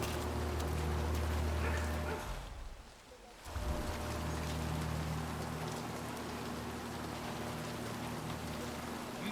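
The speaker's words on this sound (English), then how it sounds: "Rain, rain, nothing but rain." Steady heavy rain falls in the video game Hitman on PS5, a dense continuous hiss of drops on surfaces with a low rumble, briefly dipping quieter for a moment before resuming at full strength.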